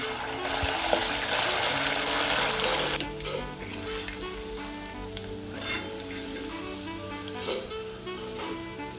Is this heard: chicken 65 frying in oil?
yes